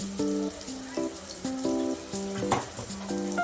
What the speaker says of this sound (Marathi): हे मिश्रण आपण चांगलं तेलावर परतूया मसाले चांगले शिजले पाहिजेत